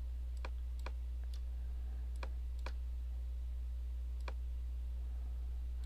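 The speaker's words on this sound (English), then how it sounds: "And I'm holding the Shift key every time I click." Computer mouse clicks sound as sharp, isolated ticks, about eight spread irregularly over several seconds, each quick and crisp above a steady low electrical hum, while the Shift key is held.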